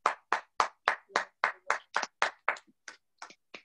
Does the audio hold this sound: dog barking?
no